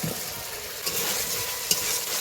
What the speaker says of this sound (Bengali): এবার ভেজে রাখা পটল আলুটা দিয়ে দিব।